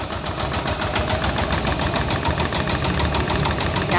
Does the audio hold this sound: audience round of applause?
no